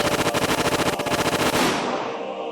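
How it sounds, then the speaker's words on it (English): Rapid automatic gunfire from soldiers shooting in a video game rattles in a dense, loud burst of rhythmic shots, then stops and leaves an echoing tail. "The sound of the gunshots echoed in the silence."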